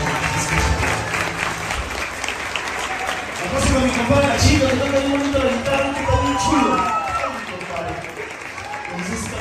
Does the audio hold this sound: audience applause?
yes